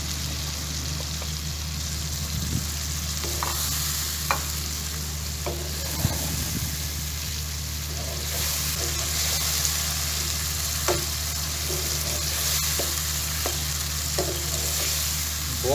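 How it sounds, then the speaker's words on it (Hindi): Boiled potato cubes stir-fried in spicy pickle masala in a pan, a steady close sizzle with repeated scraping stirs and occasional knocks of the spoon against metal, no talking. "इन क्यूब में काटे हुए आलूओं को मैं इसके अंदर ऐड करने लगा हूँ।"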